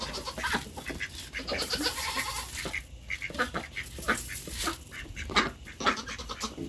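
Farm goats bleating and calling close by, several animals overlapping in a busy, continuous chorus with brief pauses, no talking.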